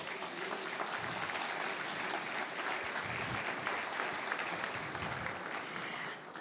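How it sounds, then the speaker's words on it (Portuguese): A church congregation at a bilingual service claps together in a steady wash of applause. It holds even for several seconds, then tapers off at the very end. "Pode aplaudir."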